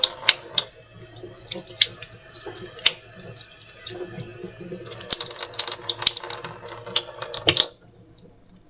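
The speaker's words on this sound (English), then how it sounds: "Just going to make sure this one is rinsed okay" Water runs from a kitchen tap while a jar is rinsed, a steady splashing stream with clinks and drips that stops abruptly near the end, leaving near silence.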